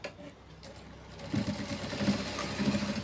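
Sewing machine stitching a boat neck blouse, quiet handling at first, then a steady close mechanical whir with a rhythmic hum running to the end, no talk.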